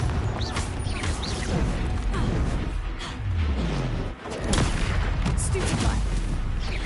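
Confringo blasting spells in Hogwarts Legacy go off repeatedly, a dense run of loud booms and crackling explosions layered with battle noise throughout, with a voice speaking over the action.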